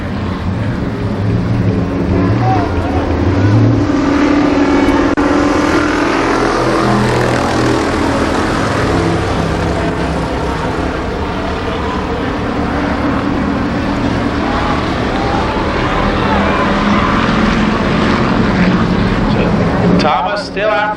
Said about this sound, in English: Hartzell trying to move on the outside of the car number 9 of Kenny Thomas.